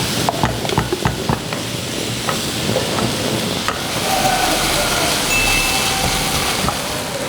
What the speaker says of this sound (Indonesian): Oke, kalau udah halus seperti ini, nih kita akan tumis.